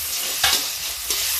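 Small sour desi tomato dropped into a hot pan for spinach black masoor dal, a continuous sizzle broken by two sharp scraping stirs, close and fairly loud, no voices.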